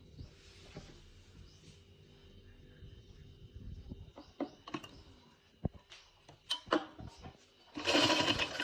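A sewing machine stitches a sleeve design. Faint running hum gives way to sharper clacks and stitch bursts, then a loud hissing whir near the end, close by, with no talking.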